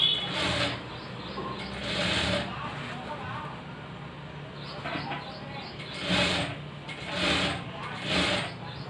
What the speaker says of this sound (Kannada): ಸ್ವಲ್ಪ ಲೈಟಾಗಿ ಎಳೆದುಕೊಂಡು ಸ್ಟಿಚ್ ಮಾಡೋಣ